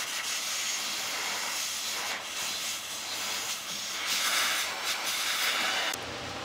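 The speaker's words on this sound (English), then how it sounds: "I think that's enough of the steam for now." Steam hisses steadily from the steam wand of a Rancilio cappuccino machine, a loud continuous rushing noise that surges slightly midway and drops near the end.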